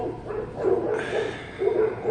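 Dogs kept outdoors bark and yip in short bursts at moderate distance, a few quick barks separated by brief pauses.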